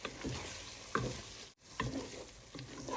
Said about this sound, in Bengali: আমার মশলাটা কষানো হয়ে গেছে দেখতেই পাচ্ছি আমি যে শুটকিগুলো দিয়ে দিচ্ছি